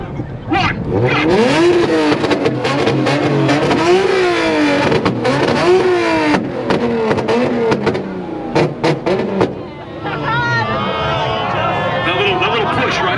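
At a two-step competition, a blue Nissan Z repeatedly revs hard and bangs on the limiter in rising and falling bursts, loud and close, with a crowd cheering and people talking around it.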